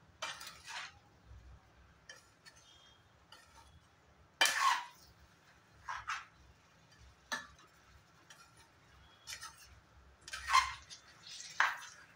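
Olive pickle is stirred in a pan on a lit gas stove, with scattered metallic scrapes and clinks of a spoon against the pan at irregular intervals, close but fairly quiet against a low background hum.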